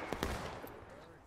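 Rifle volley fire in the Civil War video game War of Rights, a burst of overlapping shots at the start fading into a decaying rumble, moderately loud with no talk.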